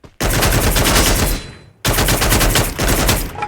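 Loud, close bursts of automatic gunfire in the mobile battle royale Free Fire, two long sustained volleys separated by a short pause.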